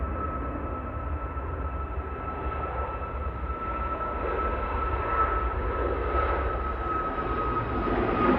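Jet airliner departing Manchester Airport, a steady broadband engine roar that slowly builds in loudness over the whole stretch, with no talk over it.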